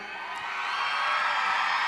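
A concert audience at a weekly singing-competition show screams and cheers in a loud, swelling high-pitched roar that builds and holds steady.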